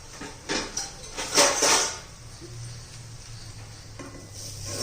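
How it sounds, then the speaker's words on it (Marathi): A lid goes onto a pot of zunka, onion and tomato cooked with besan, with a few light clatters and a ringing metal clank, then a low steady sizzle from under the cover. "तर याच्यावर आता आपण झाकण ठेवणार आहोत"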